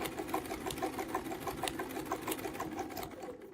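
A sewing machine stitches steadily while quilting a feather arrow panel, its needle beating in a fast, even rhythm up close, then slowing and trailing off at the end.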